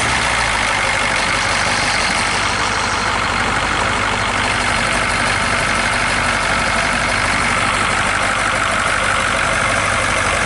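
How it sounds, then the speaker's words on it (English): The rear engine of a 1966 GMC bus idles steadily after an ether start, a loud, dense, constant rumble that runs unbroken from start to finish, with no voices. "Flicking the rear motor switch,"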